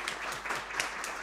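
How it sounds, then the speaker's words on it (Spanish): A conference audience on contemporary art in Toledo breaks into a short burst of applause, dense, steady clapping from many hands throughout. "Yo creo que ya se merecen un aplauso."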